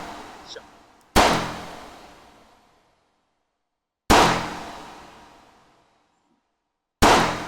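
Gunshots fire at IPSC targets in the VR shooting game H3VR, three loud, close shots spaced about three seconds apart, each with a long echoing decay.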